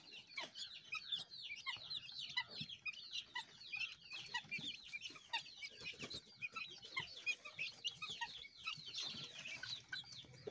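Guinea fowl chicks call in a busy chorus of rapid, high, repeated chirps and peeps, many overlapping bursts keeping up a constant rhythm, close and clear against a quiet background.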